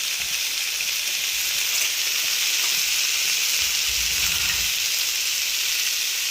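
Fish frying in butter in a pan makes a steady, loud, continuous sizzle that stays even throughout, with a faint stirring or scraping noise partway through and no talking.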